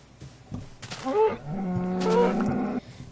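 A cow moos in the Minecraft-style video game Beta Craft, a long, loud, drawn-out low groan that rises and falls, preceded by a few short game sounds.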